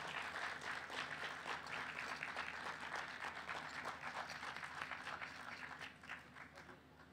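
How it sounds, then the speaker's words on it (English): An audience at the Jaipur Literature Festival applauds two speakers, a sustained wash of many hands clapping from a sizeable crowd, steady throughout and fading slightly near the end. "May I request you to give a big round of applause for these two today."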